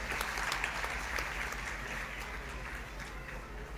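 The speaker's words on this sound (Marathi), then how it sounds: "सर्वांनी त्यांचा टाळ्या वाजवून अभिनंदन करावं असं मला वाटतं" An audience at a school event honouring guests applauds in a dense, steady wash of clapping that holds at an even level throughout, with no speech over it.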